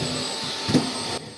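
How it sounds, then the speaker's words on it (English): Vacuum cleaner sucking up dust from the floor under a bed in a small apartment in Japan, a steady close whirring drone with a brief bump partway through and a change in tone near the end. "The vacuum is pulling up a surprising amount of dust with every pass."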